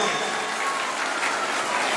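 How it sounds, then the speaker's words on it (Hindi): A crowd at a school annual function claps loudly and steadily, a dense, even wash of applause with no pauses. "उनके लिए बहुत सारी तालियां यहाँ मौजूद हैं"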